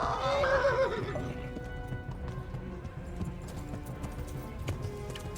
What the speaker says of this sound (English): Horse is complaining.